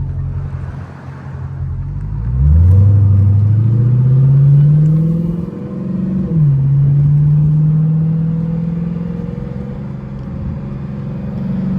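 Dodge Hellcat driven in traffic, its supercharger whine rising and falling in pitch over a low engine drone as the car accelerates twice, steady and close with no voices.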